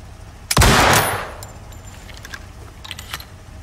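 A suppressed gun fitted with a silencer mod fires in the survival video game Icarus: a sharp burst at the start with a fading tail, followed by scattered small metallic clicks and ticks, no talking.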